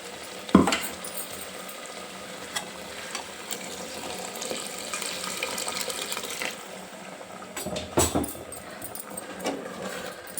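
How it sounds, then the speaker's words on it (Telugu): Water is poured into ground mutton-curry masala frying in oil, producing a rushing hiss and sizzle that swells for several seconds, with sharp clatters from the pan near the start and end. "మసాలా కూడా మంచిగా వేగింది ఇప్పుడు నీళ్ళు వేసుకుందాం"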